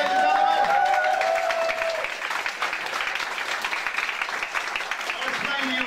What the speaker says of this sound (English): Big round of applause for Natasha, ladies and gentlemen.